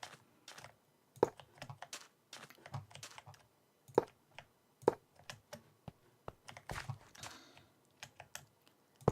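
Rapid clicks while placing blocks in Minecraft, sounding like a keyboard and mouse with quick irregular taps, some in bursts and others spaced out, close and fairly faint, with no talking.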